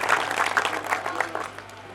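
Audience at a Hindi poetry gathering applauding for poet Kanu Pandit, with brisk, dense clapping from a crowd that tapers off toward the end.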